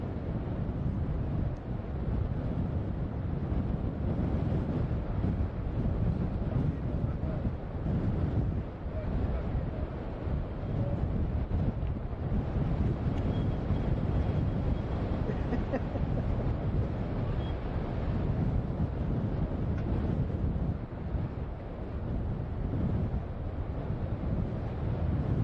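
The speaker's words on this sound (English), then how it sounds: "By the windsock, we've got a gusty old day." Gusty wind buffets the microphone at RAF Lakenheath airbase, a steady loud roar with rising and falling surges throughout, no other clear sound standing out.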